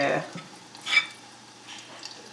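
Spoonfuls of fritter batter drop one at a time into hot oil, each landing as a short, soft sizzling splash, with gaps of quiet frying between them.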